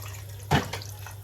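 Water poured into seasoning for Jamaican-style oxtail, a brief quiet splash over a low steady background hum.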